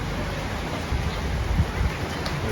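Steady rain falls outdoors in Mabalacat, Philippines, making a continuous broadband hiss with soft low patters that rise and fall slightly. No talk is heard over it.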